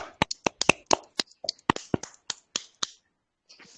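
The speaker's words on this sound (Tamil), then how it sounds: "கரகோஷம் எழுப்புவோம்." A small group applauding after a meditation session, a short run of separate, sharp claps spaced irregularly before fading into quiet.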